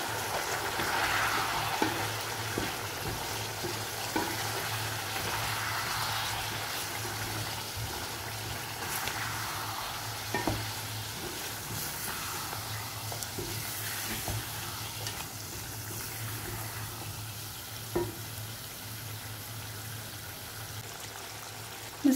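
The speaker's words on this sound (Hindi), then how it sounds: "इसकी भुनाई करेंगे तकरीबन 5 से 6 मिनट के लिए" Ground masala roasting in oil for mutton korma, a low continuous sizzle with occasional soft scrapes and taps of a spoon stirring the pan.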